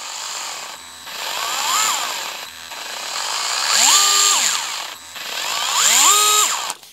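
A DEWALT 8V MAX cordless gyroscopic screwdriver runs in short bursts, its motor whine sliding up and down in pitch as the tool is twisted. Several rising and falling sweeps are heard close up with no talking.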